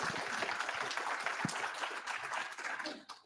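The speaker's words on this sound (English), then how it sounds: "Let's give them another round of applause, everyone." A crowd at an Angular developer meetup applauds, dense steady clapping filling the room for several seconds before tapering off at the end.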